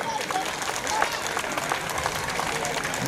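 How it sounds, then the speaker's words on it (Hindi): A group claps at an Ambedkar Jayanti eve gathering in Ambedkar Park, a steady moderate patter of hands with crowd murmur and voices underneath, fairly distant and even throughout. "तालियां बजती रहे थोड़ी सी ताकि उत्साह बना रहे हमारे ग्रुप का।"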